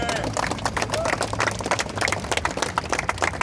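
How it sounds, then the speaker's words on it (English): A crowd claps at a Father's Day event at the Barclays Center, a dense patter of hands mixed with babble as people speak over the applause. "We clap it up for that, right?"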